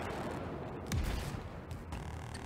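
Gunfire from the Crossfire X campaign with a burst that fits a grenade blast, a dense volley of shots rolling on under one heavier low boom near the middle, steady and loud throughout.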